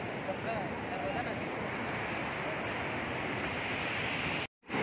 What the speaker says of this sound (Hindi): बहुत ही गजब का वाटरफॉल हो रहा है